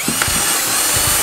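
Electric drill spinning a flexible 3D-printed grooved roller against a bicycle tire, giving a steady loud mechanical whir with ratcheting clicks through a short stretch, with no talking.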